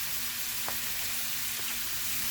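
Sausage, onions and mushrooms browning in a pan, giving a steady close sizzle with a soft hiss, and two faint clicks from stirring in the background.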